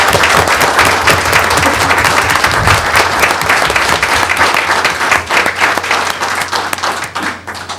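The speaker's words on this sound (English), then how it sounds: "We'd like to clap our hands for you one more time." Audience applause for Social Studies Fair students at a board of education meeting, a dense, steady clapping from a full room that holds for several seconds before thinning toward the end.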